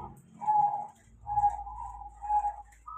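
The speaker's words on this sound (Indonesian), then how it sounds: "Ini perkutut dari alam." A wild-caught zebra dove (perkutut) coos nearby in three clear, evenly spaced phrases, each a mellow whistled note, heard alone against a low background hum.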